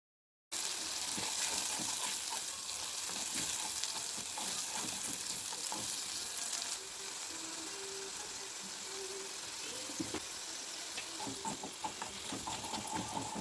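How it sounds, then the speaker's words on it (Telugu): Puree frying in a pan for a prawn curry, a steady broadband sizzle and crackle running throughout with occasional light scraping and stirring, close by and alone without talk. "ముందు పట్టుకున్న ప్యూరీని అంతా వేసి మంచిగా వేగనీయాలి."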